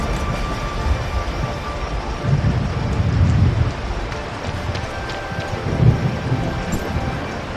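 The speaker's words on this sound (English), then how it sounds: "It seems that a strong storm is brewing." A thunderstorm with rain in Dragon Pool in Tower of Fantasy: constant heavy rain noise with low rolling thunder that swells a few times, with no voices.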